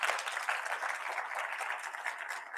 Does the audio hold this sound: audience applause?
yes